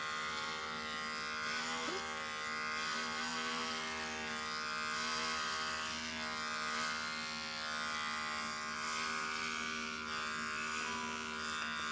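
Electric clippers trim the excess fur from a Shih Tzu, a steady close electric hum with a constant pitch, running continuously and alone without talk.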